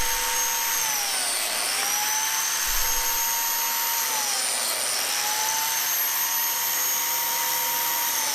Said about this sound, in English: We will be using the jointer with the fence on top on both sides